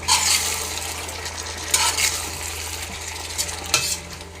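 Chicken biryani is stirred in a pot with close, continuous scraping and rustling over a gentle sizzle, punctuated by a few light metallic clinks, with no talk.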